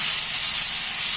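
Close, unbroken sizzle of onion and cauliflower lightly frying in a pan for momo filling, an even steamy hiss with no voices.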